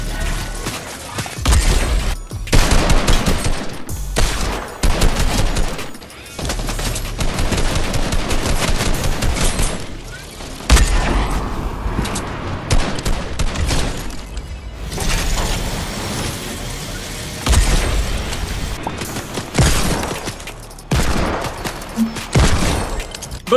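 Gunfire in the Fortnite Season 7 video game, with loud, dense bursts of rapid shots coming in long stretches and broken by brief lulls.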